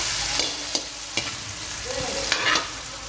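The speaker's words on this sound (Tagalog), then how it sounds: "gisa muna natin to" Vegetables sautéing in a pan give a continuous loud sizzle, punctuated by several sharp clacks of a spatula scraping and stirring, near and with no talk.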